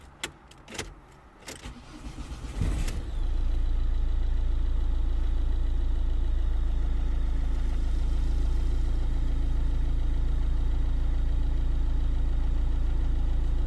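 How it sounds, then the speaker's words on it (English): A Ford Mondeo engine cranks with a few clicks and key jangles, then catches and settles into a steady, loud idle hum that continues unchanged to the end, with no voices. "So let's start the engine and see what codes we get back."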